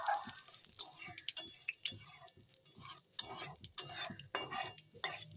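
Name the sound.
washed bay leaves sizzling in hot oil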